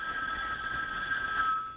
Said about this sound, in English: But I believe this is the telephone.